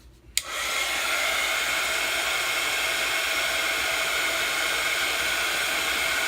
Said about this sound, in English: we're going to use our heat gun to emboss that